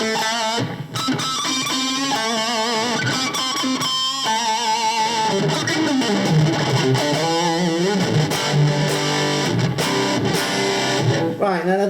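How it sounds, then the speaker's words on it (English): An electric guitar run through a Marshall amp model on a Zoom G2 Nu multi-effects pedal, with a bit of echo, plays distorted, sustained notes and chords, loud and continuous for the whole stretch. "that's my Marshall sound, my traditional Marshall sound"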